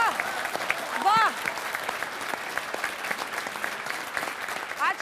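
Audience applause at a Hindi poetry debate event, a steady dense clapping that runs the whole time with brief swells and occasional whistles or cheers cutting through.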